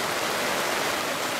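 A downpour drums outside a roadside refreshment stall in rural southern Vietnam, an even, close wash of hissing rain with no voices.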